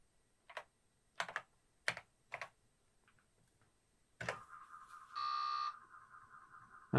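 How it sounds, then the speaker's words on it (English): Keystrokes on a Commodore 64 Ultimate keyboard, a handful of separate clicks and short clusters spaced apart, followed by a brief steady electronic beep; close and clear with no talking. "And I'm going to type in, this is difficult when you've got a camera in the way. As you can see, I'm making typos."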